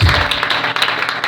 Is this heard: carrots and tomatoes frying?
no